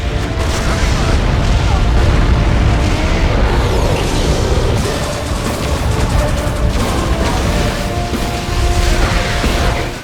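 Heavy weapons in the Warhammer 40,000 strategy game Dawn of War II Retribution boom repeatedly through dense, continuous battle noise, loud and close throughout.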